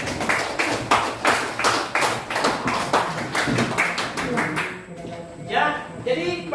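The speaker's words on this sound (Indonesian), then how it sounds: "Tepuk tangan untuk kelompok 3 dulu" Students in an Indonesian mathematics classroom clap for a presenting group, with sharp, evenly spaced, rhythmic claps. The clapping stops near the end and a voice follows.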